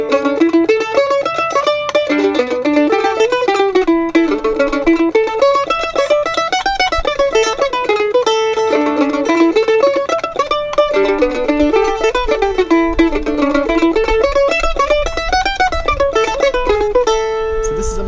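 A rapid, continuous run of plucked string notes rolls up and down in a staggered broken-chord pattern, bright and busy, with no pauses.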